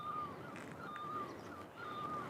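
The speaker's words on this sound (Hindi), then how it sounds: "तो ये जो आवाज़ आ रही है ना, तो ये न्यूली की" A nyuli bird calls in the rain-soaked Himalayan hills, a thin repeated whistling note sounding three times at a distance over a soft hiss of background noise.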